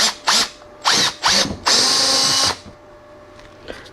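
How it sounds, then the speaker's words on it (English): A power drill bores a hole into the fender of a Corvette C5 in several short bursts, then one longer steady run of about a second, close and loud, followed by quiet. "I'm going to drill a hole in one spot"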